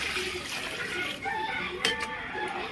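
Water splashes and pours steadily into a cooking pot for mutton biryani for a couple of seconds, close by, with a brief louder splash near the end.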